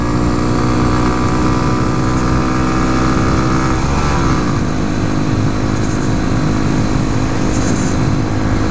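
A 2014 Honda Grom's single-cylinder engine drones steadily while riding, loud and continuous, with a brief rise and fall in pitch near the middle of the run and no talking.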